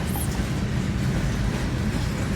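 A 25-car freight train rolls past a level crossing with a steady, close, heavy low rumble of wheels and cars, unbroken from start to finish.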